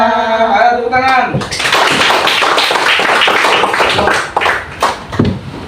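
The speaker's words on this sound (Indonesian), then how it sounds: "Ayo tepuk tangan." A class of fourth-grade pupils in an Indonesian school claps hands together after singing, a dense burst of clapping with tapping and thumps that continues for several seconds after a brief sung note.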